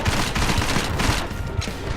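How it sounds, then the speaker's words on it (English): Rapid gunfire in the video game Deus Ex: Mankind Divided, a dense loud fusillade of shots with sharp repeated thumps over a continuous noisy battle background. "I make example of them by shooting them in the face, like this"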